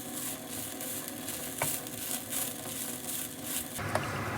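Onions frying gently in a pan over low heat, a soft, steady sizzle broken by occasional scraping and stirring sounds, close and quiet.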